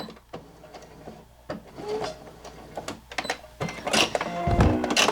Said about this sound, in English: I want to make sure I sew over where I started and then backstitch there